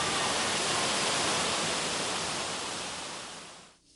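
A mountain waterfall in a national forest recreation area roars steadily as a dense, loud wash of falling water, then fades away toward the end.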